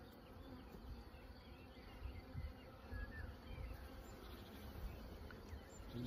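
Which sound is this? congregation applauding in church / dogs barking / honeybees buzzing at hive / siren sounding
honeybees buzzing at hive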